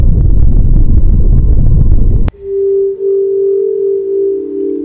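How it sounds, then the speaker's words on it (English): A sonification of the Milky Way galaxy: a dense, roaring wash of noise cuts abruptly to a steady eerie hum, a single sustained tone that slowly shifts pitch. "that's exactly what I would imagine the Milky Way galaxy to sound like"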